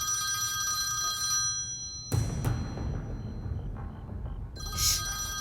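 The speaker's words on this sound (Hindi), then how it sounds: "जब फोन बजता है तो उठाया जाता है" A telephone bell rings indoors in a home, a steady electronic tone that stops partway, then a few thumps and a short second burst of ringing near the end, with a faint background hum.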